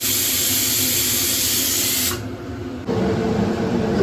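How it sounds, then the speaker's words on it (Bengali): A pressure cooker cooking rice vents a loud, steady steam hiss with a whistle-like whine. The hiss drops briefly partway through, then surges back. "এই যে প্রেশারে এবার সিটি করুন"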